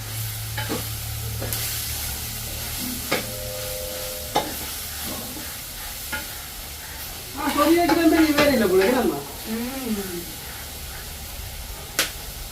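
Food frying in a pan during Jaffna village cooking, a soft steady sizzle punctuated by clinks of a utensil stirring, with a person talking briefly over it midway.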